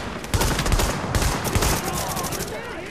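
Rapid gunfire from the video game The Division in a Dark Zone solo run, dense sustained bursts of shots filling the moment, loud and continuous with a brief gap near the middle.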